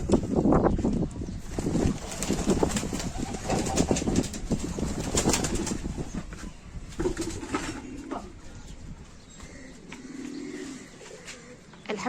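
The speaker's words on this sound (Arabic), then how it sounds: "هنفتح معاكم كده على الحمام، هوريكم ازاي بيطير" Pigeons taking flight over a rooftop, with a burst of flapping wings up close and soft cooing and bird calls mixed with outdoor background noise.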